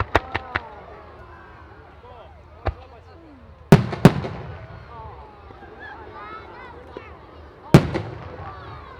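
Fireworks at a European display at the Abingdon Firework Festival go off in loud, sharp bangs: three quick reports, then a lone crack, paired heavy booms and a final blast, with crackling glitter between them and people talking quietly.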